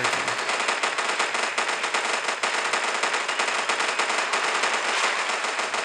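Rapid, sustained automatic gunfire from a Call of Duty-style mobile shooter game, loud and dense with almost no pause throughout.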